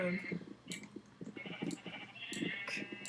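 Sheep bleat repeatedly in a Minecraft modpack game, short game-style cries recurring through the clip, with someone talking steadily over them.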